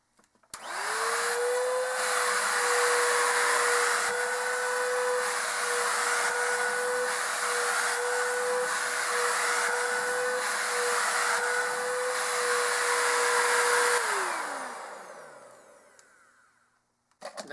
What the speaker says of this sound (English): Next is Bissell 3-in-1 Stick Vac number 1.